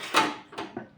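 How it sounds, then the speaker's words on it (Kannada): A pressure cooker is set down on a kitchen stove, giving three quick hollow knocks and scrapes of metal over about a second, close and fairly loud with no talking. "ಕುಕ್ಕರ್ ಇಡ್ತೀನಿ ರೀ"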